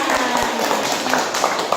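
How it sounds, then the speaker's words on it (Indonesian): Audience claps together at a children's Islamic preaching event, a dense, fairly loud patter of many hands close by, with voices mixed in. "tepuk tangan buat kita semua"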